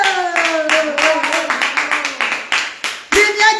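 A small group claps in a steady, rhythmic beat, with a voice talking over the claps, and a louder burst comes near the end.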